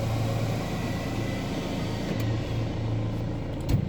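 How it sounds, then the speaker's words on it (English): A bus engine that does not sound right gives off a continuous low, rough drone from close by. The rumble holds steady throughout and no one speaks over it. "but that bus didn't sound right."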